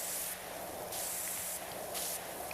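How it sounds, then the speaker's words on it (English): A pressure washer sprays in the video game PowerWash Simulator 2, giving a close, steady hiss that swells in three bright bursts as the jet is triggered on and off. "We're going to spray it just a little bit here that we can reach."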